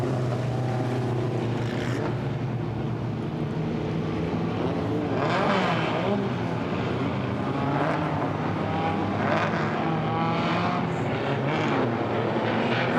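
Mini stock race cars run the 30-lap main event at Orange Show Speedway, making a steady, continuous engine roar that swells slightly at moments, heard at a distance with no voices.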